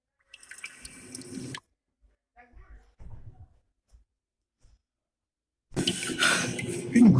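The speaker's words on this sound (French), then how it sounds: "Une goutte d'eau tombe sur le front de Foudre Blanche, qui se réveille" Sparse water drops fall one at a time in a quiet stretch, each drip soft and brief, set between louder, denser passages of sound at the start and end.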